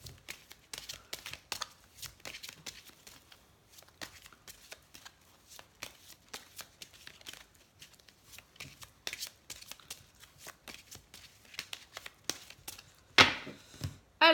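Oracle cards being shuffled by hand, a continuous run of soft, quick riffling clicks and taps at close range, growing busier and louder near the end, with no talking.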